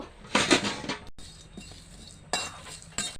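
Cumin, cardamom and bay leaf dry-roasting in a pan, heard as a few bright metallic clinks and scrapes of a utensil against the pan, with quieter gaps between the bursts.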